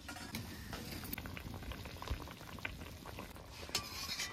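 Pabda fish curry simmering in water over a low flame, a steady close bubbling and gentle boiling hiss with faint clinks now and then, alone without talk.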